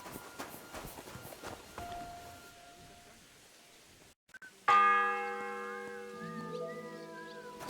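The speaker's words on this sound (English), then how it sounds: "The first bell." A church bell tolls once in the medieval game Kingdom Come: Deliverance II, a loud resonant strike after footsteps and ambient bustle, its humming overtones ringing on and slowly fading.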